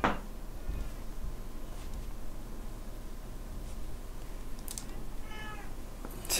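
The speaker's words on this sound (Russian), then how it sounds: "Опять кот начинает у тебя." A cat meows a few times in the background over a steady noisy room hum and faint keyboard clatter, with the meows fairly quiet and spread across the stretch.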